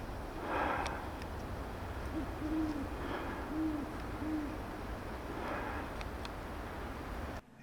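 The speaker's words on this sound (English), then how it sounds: "I'm going to show you a pair of great horned owls that I actually got on film" A great horned owl gives several soft, low hoots spaced a second or so apart, faint and distant over a quiet outdoor background hiss.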